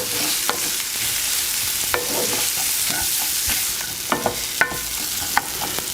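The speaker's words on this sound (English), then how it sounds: "we want to make sure all those rice grains have been coated by a little bit of that oil and a chance to cook for a moment" Risotto rice grains toasting in oil in a pan, a soft continuous sizzle broken by sharp scrapes and clicks of a spoon stirring, close and without speech.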